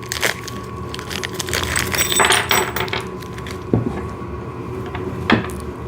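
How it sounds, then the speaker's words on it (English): Paper envelope holding VEVOR snow shovel assembly parts being torn and pulled open, a run of crinkling rustles and crackles with a few sharp snaps, close and moderately loud. "Let me just get this envelope open."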